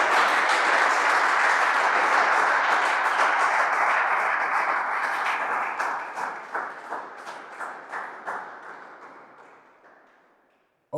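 A church congregation breaks into loud, sustained applause and acclamation that fills the room, then thins into scattered separate claps before fading to silence.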